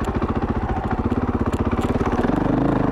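A 2016 KTM 500 EXC dirt bike ridden along single track, its single-cylinder engine thumping in a fast, even pulse close to the mic, pitch rising slightly near the end.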